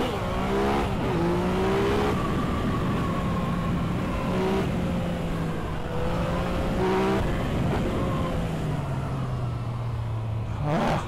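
A Yamaha XSR 900 three-cylinder motorcycle engine accelerates hard, its pitch climbing in repeated rising sweeps as it runs through the gears, close and loud throughout.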